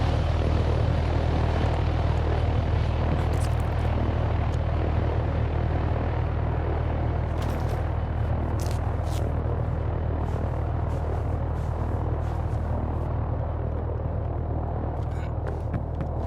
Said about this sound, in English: trying to figure out if the heli saw me or not